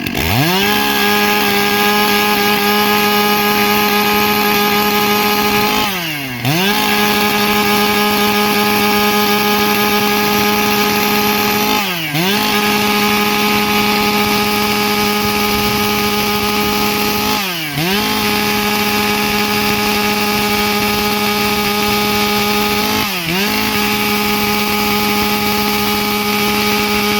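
Chainsaw-driven Alaskan sawmill slicing through a log, engine holding a loud steady high-revving whine with a brief dip in pitch roughly every six seconds as the cut loads and clears, running alone without voices.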